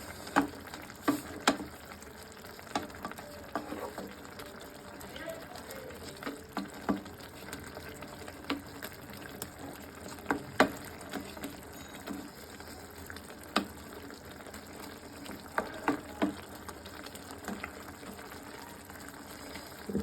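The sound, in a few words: radish and small fish curry simmering in pan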